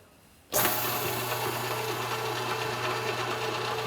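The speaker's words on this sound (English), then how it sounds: "I think the name of this is that super handy sausage grinder" Electric sausage grinder grinding boneless pork ribs switches on after a brief quiet moment, then runs as a steady loud motor drone with a constant hum, close up and alone.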